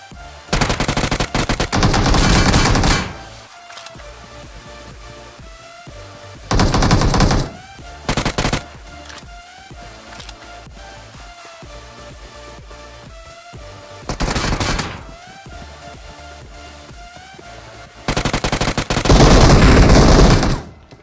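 Bursts of automatic gunfire from a PUBG/BGMI battle royale fight on a Poco X3 Pro, loud clusters of rapid shots separated by quieter gaps, with no talking.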